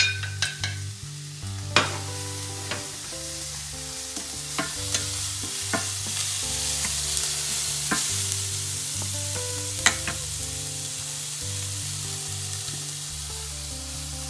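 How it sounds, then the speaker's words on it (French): Onions cook in a pan for a fish-bite recipe, a steady sizzle running underneath as a utensil scrapes and taps the pan at irregular intervals, close and clear, with no talking. "Pendant que ça cuit tranquillement, l'oignon"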